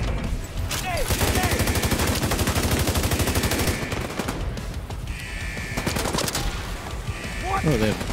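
Rapid gunfire with burn bullets in a shooter video game, continuous loud bursts of automatic fire with short pauses, over game effects and a speaking voice.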